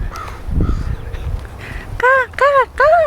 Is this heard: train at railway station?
no